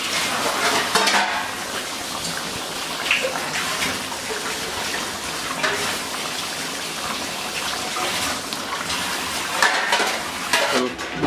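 Eggplant curry simmering with fried dried fish added, stirred in a pot with steady bubbling and sizzle plus intermittent scraping and clinks of a utensil against the vessel, close and continuous with no talking.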